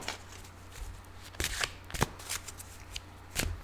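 Tarot cards shuffled by hand during a reading, a soft continuous riffle broken by several crisp flicks and slaps, close and quiet with no talking.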